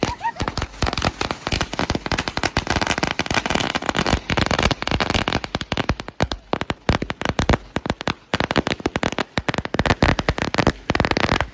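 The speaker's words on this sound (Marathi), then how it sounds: "फटक्यांची आतिशबाजी पाहायला मिळेल फटाक्यांची" Strings of firecrackers burst at a village cricket ground to celebrate the winning team, a dense, rapid crackle of sharp pops running for over ten seconds with brief gaps and uneven loudness.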